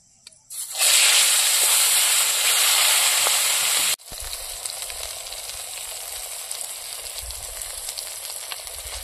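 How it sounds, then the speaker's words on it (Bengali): Rupchand fish rubbed with turmeric and salt hits hot oil with a sudden loud hiss and crackle that settles after a few seconds into a steadier, softer sizzle with scattered pops, close by and without talk. "এখন মাছগুলো আমি ভাজা চড়ে দেবো।"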